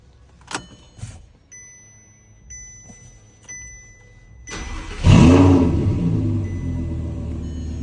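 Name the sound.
Audi R8 V10 engine starting, with titanium exhaust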